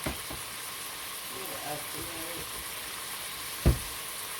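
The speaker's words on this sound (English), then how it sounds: "That garlic cooking." Garlic sizzles in a pan while potato soup is being made: a steady, quiet frying hiss throughout, with one sharp clack of a utensil near the end.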